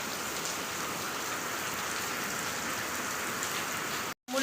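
Heavy rain pours down in a dense, steady, even hiss of drops on surfaces, close and constant, cutting out abruptly for a moment near the end.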